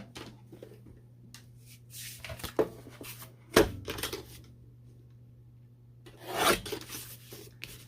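A small paper trimmer slicing peach scrapbook paper, brief scraping and rasping strokes in short bursts with quiet pauses between them, close and soft over a low hum.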